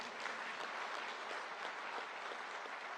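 Convention audience at an annual general meeting applauds, a steady, faint, even wash of many hands clapping at a distance for the full few seconds, with no talk over it.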